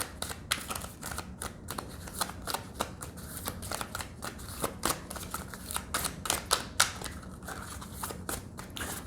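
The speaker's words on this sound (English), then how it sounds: "we're just gonna go ahead and give it 3 more quick shuffles" Tarot cards are riffled and shuffled in quick repeated bursts, crisp flapping clicks close up with short pauses between rounds, no talking.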